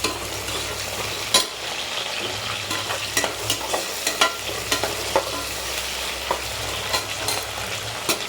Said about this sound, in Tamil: வெங்காயம் வந்து கொஞ்சம் பொன்னிறமாக வதங்கட்டும்.